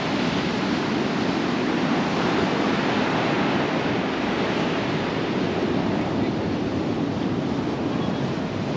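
Ocean waves rolling onto Sandbridge Beach at low tide, heard as a steady, loud, continuous roar of surf with wind rushing across the microphone.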